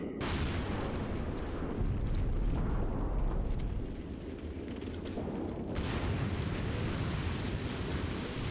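Incoming artillery fire pounds a position in a WWII tactical war game, with continuous heavy rumbling explosions and crackling gunfire layered densely for several seconds, a few sharper blasts cutting through the dull roar, no voices.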